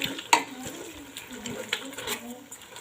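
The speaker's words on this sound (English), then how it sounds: "I have to stir it now so that the thing will mix together" Egusi soup is stirred in a pot, a utensil scraping and knocking against the sides in a loose repeating rhythm, close and moderately loud, with one sharp clank near the start.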